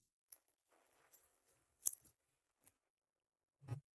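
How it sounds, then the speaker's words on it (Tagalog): Scissors are handled, giving a few sharp, faint metallic clicks and snips spaced irregularly over a quiet background. "Ibigay ang gunting mo sa akin."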